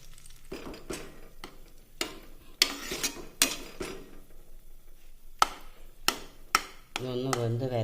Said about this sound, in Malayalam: ശേഷം നല്ലപോലെ ഒന്ന് ഇളക്കി കൊടുക്കാം.